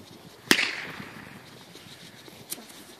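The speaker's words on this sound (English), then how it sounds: "That's Walmart fireworks." Small backyard Walmart fireworks go off on New Year's Eve: one sharp crackling bang with a fizzing tail, then a fainter pop a couple of seconds later over quiet outdoor background.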